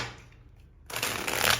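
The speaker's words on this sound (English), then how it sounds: "I'm going to do 2 more shuffles." A thin, flimsy tarot deck is shuffled close up: a faint riffle of cards gives way after a quiet pause to a loud, sustained crisp flutter of cards slapping together.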